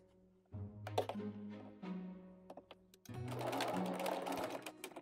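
Sewing machine backstitching fabric for a German women's Wulsthaube headdress: two short bursts of stitching with a pause between, then a longer, louder steady run of stitching, close up with no talk.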